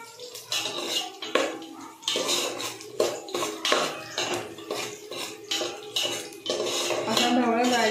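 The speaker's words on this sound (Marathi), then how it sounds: "असा ढवळत जायचा नाही तर बाजूने तो कांदा करपतो." Chopped onion, with a little garlic, stirred in a frying pan until reddish for a crab curry; a spoon repeatedly clanks and scrapes against the metal in a steady, busy rhythm, close and fairly loud, with no talking.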